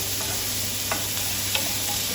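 Vegetables for a paneer curry fry in a pan, giving a steady, even sizzle at close range with a couple of faint light taps from stirring and no voices.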